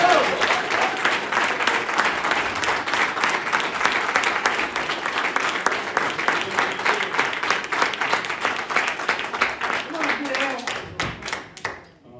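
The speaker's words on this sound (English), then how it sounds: "Let's give a warm round of applause to our brother DL Daniel Laurent" A graduation audience applauds Daniel Laurent with dense, sustained clapping that stays loud and close, then thins and fades out near the end.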